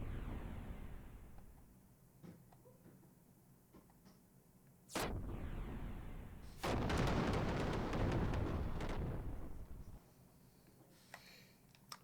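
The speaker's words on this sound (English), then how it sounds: "just shoot him with a giant laser." A giant laser blast fired during a Xenogears cutscene, a loud sustained roaring burst that swells near mid-clip and rumbles for several seconds over a low game backdrop, then drops away.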